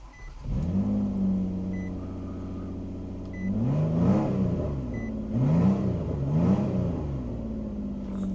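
A Nissan Altima 3.5 coupe engine idles with a low rumble, then revs up several times in rising and falling pulses through a homemade budget exhaust, nearby and fairly loud.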